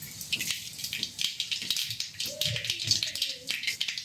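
Whole spices hitting very hot oil in a wok-style kadai crackle and spatter in quick irregular pops, fairly soft and close, under a voice talking.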